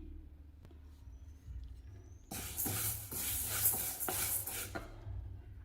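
Black urad dal dry-roasting in a pan gives a bright hissing, rustling crackle that starts abruptly and continues steadily, close and moderately loud with no talk.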